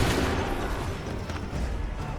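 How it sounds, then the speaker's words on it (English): A musket volley fired on command in Assassin's Creed III rumbles as a dense, booming wash of gunfire that fades slightly before swelling again, loud and continuous. "Open fire."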